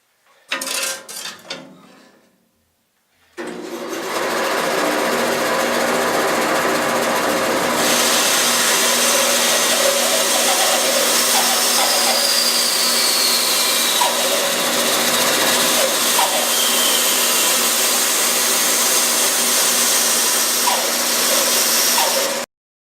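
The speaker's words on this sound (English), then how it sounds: "I can just rip this on the bandsaw." A bandsaw rips a length of wood in a workshop, running loud and steady for about twenty seconds after a brief start, with no talking.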